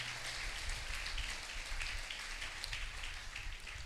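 Steady, dense clapping from a church audience at a Christmas celebration, a continuous broadband patter with a low hum underneath and no pauses.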